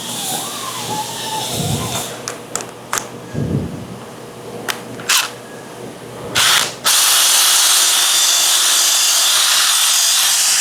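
A machine polisher works over the painted body of a Maserati, with a few sharp clicks and knocks before the machine starts. It then spins up and runs with a loud, steady whir close by.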